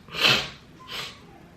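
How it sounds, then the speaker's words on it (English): A person forcefully blows their nose twice at close range, a strong airy blast followed by a shorter, weaker one. "Now I gotta blow my nose."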